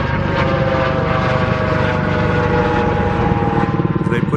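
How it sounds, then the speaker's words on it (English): Helicopters fly overhead at the Las Vegas Raiders Allegiant Stadium construction site, a loud continuous rotor and engine roar that holds steady throughout with no talk. "We got all the helicopters coming back."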